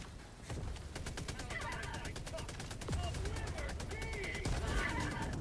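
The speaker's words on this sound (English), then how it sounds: "Ovaj minigun više ubije nas nego ubije njih" Rapid automatic gunfire from a minigun in a video game, sustained bursts of dense, even shots under the game's constant din, while several players talk and shout over it.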